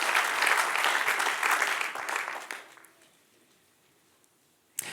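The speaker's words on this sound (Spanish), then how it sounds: "Dale el aplauso fuerte." Church congregation applauding loudly during a Spanish-language sermon, a dense burst of clapping for about three seconds that fades out, followed by near silence and a sharp click at the end.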